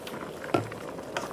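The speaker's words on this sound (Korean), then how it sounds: "35분 정도는 약한 불에서 은근하게 끓여주시면 됩니다" A gochujang stew of meat and broth simmering covered over low heat in a pot, giving a soft, steady bubbling patter with one or two louder pops, close and alone.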